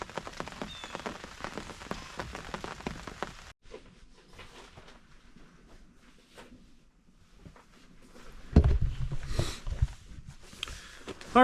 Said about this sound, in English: It is still raining out